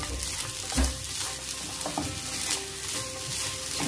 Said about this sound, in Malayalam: ശർക്കര പൊടിച്ച് ചേർത്തിട്ട് എല്ലാം കൂടി ഒന്ന് മിക്സ് ചെയ്ത് കൊടുക്കാം